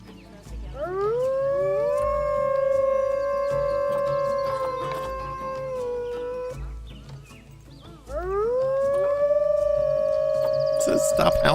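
Two long, loud wolf howls sound from Planet Zoo on console. Each one rises and holds steady, with a pause between them and a sharp noise burst at the end.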